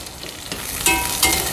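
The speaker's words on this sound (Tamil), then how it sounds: "பூண்டு பற்களையும் சேர்த்துட்டு அதையும் பச்சை வாசனை போகிற வரைக்கும் நல்லா வதக்கிக்கோங்க." Sliced garlic cloves sizzle and fry in a pan for a Kovakkai nuts pulao, with a steady crackle and sharper bursts as the pieces are stirred, close and fairly loud with no talking.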